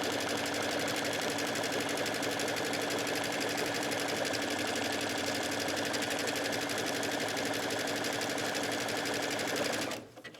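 A sewing machine runs steadily stitching a buttonhole on a tunic, a fast continuous whirring rattle held close and loud for about ten seconds before stopping abruptly.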